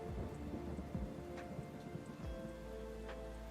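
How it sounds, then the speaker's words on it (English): Rain falls as a steady background sound effect on a livestream, a soft dense patter with scattered drops and faint low rumbles. It is quiet and continuous, with no talk over it. "do y'all like the rain effect on stuff?"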